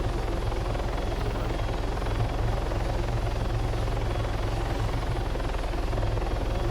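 Steady, continuous helicopter rotor drone in the video game Arma 3 with a low rhythmic thump, loud and close, holding constant throughout with no voices.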